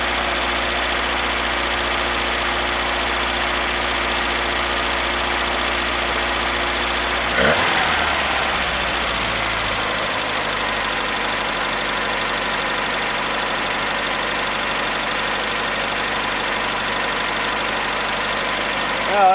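A 1981 Datsun 210 engine idles steadily at close range with a faint tapping of valve noise, its constant low rumble shifting slightly in tone partway through.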